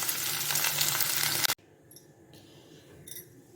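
Okra sautéing in a pan over low flame, a loud steady sizzle that cuts off abruptly partway through, followed by quieter stirring clinks and faint kitchen noise.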